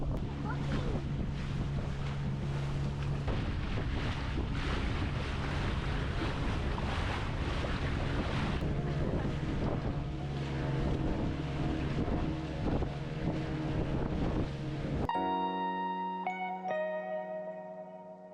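Motorboat ride on the sea off Goa: a steady, loud engine drone mixed with wind buffeting and rushing water, continuous for most of the stretch, then giving way to a tonal, music-like sound near the end.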